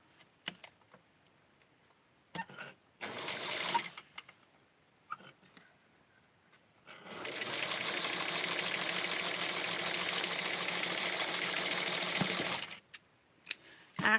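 A sewing machine stitches fabric and lace together, first in a short one-second burst, then in a steady, close, continuous run of about six seconds, with light handling clicks in the quiet gaps.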